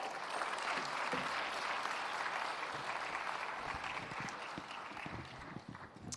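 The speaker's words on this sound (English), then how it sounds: "Ladies and gentlemen, a round of applause for Lillian." An audience at an awards ceremony on healthy diets in Africa breaks into sustained applause for a recipient, dense clapping that holds steady and then gradually thins and fades toward the end.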